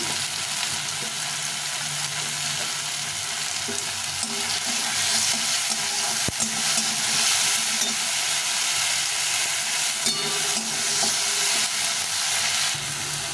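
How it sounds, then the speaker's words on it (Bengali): Chopped onion and a large tomato with a little salt sizzle in a pan, a steady close frying hiss with occasional scrapes and clicks of stirring. "পেঁয়াজ আর টমেটোটা ভাজা হয়ে গেছে"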